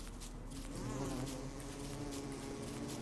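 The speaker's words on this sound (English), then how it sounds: "There's some bees" Bees buzz steadily in the video game Don't Starve, a continuous droning hum that holds at an even level without pause.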